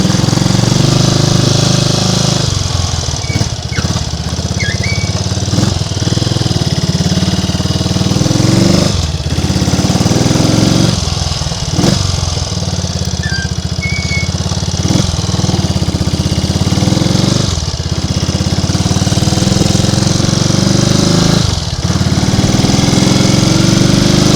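Triumph Tiger Cub motorcycle riding along country lanes on a winter evening, its small single-cylinder engine thrumming steadily and loud throughout with regular throttle surges and gear-change dips.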